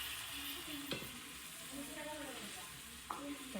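Capsicum with ground masala paste cooks in a pan, a faint steady sizzle with a couple of sharp spoon clinks and soft stirring.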